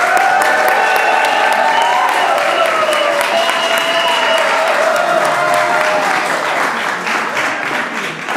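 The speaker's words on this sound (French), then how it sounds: "on peut encore les applaudir" Loud, steady applause and some cheering from guests greeting newlyweds at a town hall wedding, with a sustained tone running under the clapping and the crowd slowly thinning near the end.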